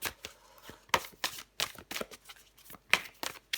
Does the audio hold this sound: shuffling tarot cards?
yes